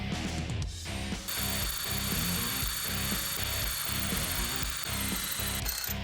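A power drill runs steadily close up, boring a hole for a Hellcat crank pin kit, its high motor whine droning with slight dips in pitch as it bores.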